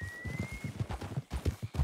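Horse hooves clip-clopping in a steady rhythm in the Red Dead Redemption 2 video game, with a short whinny early on. The sound is close and moderately loud, with a faint voice behind it.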